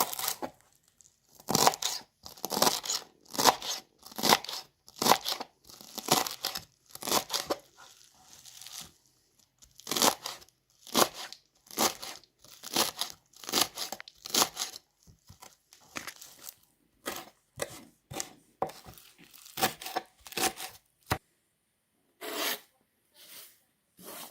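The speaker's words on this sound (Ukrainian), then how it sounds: "І поріжу один пучок петрушки." A knife chops through a bunch of parsley on a board in a home kitchen, giving a rapid series of crisp, close cuts in quick bursts with short pauses between them.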